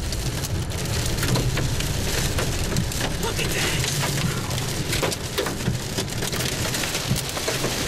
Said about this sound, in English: Okay, big hail.